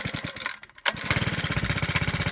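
A small garden power tool's engine catches after a brief pause, then settles into a steady, rapid, pulsing putter close by, with no voices.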